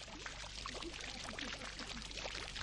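Water from five fountains splashes and pours into a central tank on the lowest terrace of a Mughal garden, a dense, continuous churning and trickling with no voices.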